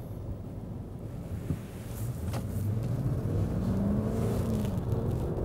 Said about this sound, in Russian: Он прекрасно ускоряется.